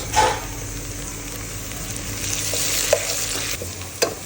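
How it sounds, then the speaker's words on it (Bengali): Onions frying in oil with bay leaf and cardamom, a continuous close sizzle with a few scraping stirs and a couple of brief clinks of the spoon against the pan. "পেঁয়াজ ভাজা হয়ে গেছে"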